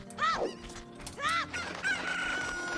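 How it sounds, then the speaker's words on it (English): Digital chickens in a video game, two sharp rising-falling squawks followed by a thin sustained high tone, close and loud with no talking. "so now we're gonna do chickens"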